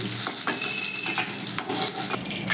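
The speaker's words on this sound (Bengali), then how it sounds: "করলাটাকে একটু লাল লাল করে ভেজে দিই" Bitter gourd pieces fry in hot oil in a pan, giving a loud, continuous sizzle with occasional stirring scrapes, close up and without talk.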